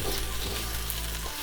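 Fried rice with butter, garlic and ginger sizzles steadily in a hot pan while being stirred, a loud continuous frying hiss with faint scraping throughout.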